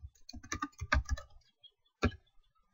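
A folder name is typed on a computer keyboard as a close, quick run of clicky keystrokes, then a pause and one firmer final key press, with no talking.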